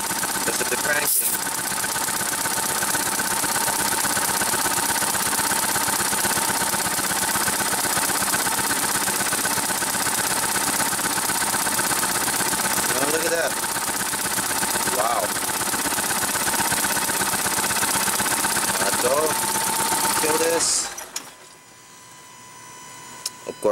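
A car engine idles steadily and loudly throughout a compression test, a constant mechanical drone that cuts off abruptly near the end as the engine is shut down.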